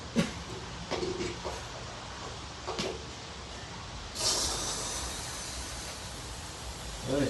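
Soft, steady hiss of air rushing into a tubeless mountain bike tire during inflation, growing stronger partway through, with a few faint clicks and knocks before it.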